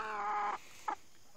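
Chickens being offered treats make a short harmonic cluck or call lasting about half a second, followed by a briefer second cluck, both fairly close and clear over quiet background.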